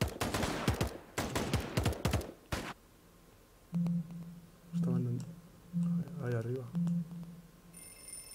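Rapid bursts of gunfire from the free-to-play battle royale video game Radical Heights crackle in quick clusters at the start. A series of short electronic beeping tones follows, fairly faint overall.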